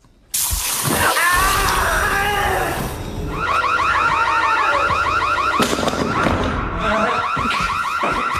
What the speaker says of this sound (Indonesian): Sarah membunyikan alarm kebakaran, membuat psikopat menutup telinganya karena suaranya begitu keras.